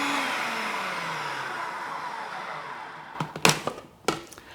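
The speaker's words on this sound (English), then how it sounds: "I'm going to whiz this together until it's sort of like little bits of butter throughout" A kitchen food processor whizzes cold diced butter into flour for a 1950s custard tart pastry, a steady whirring motor roar for several seconds that drops away into a few clunks and knocks as it stops.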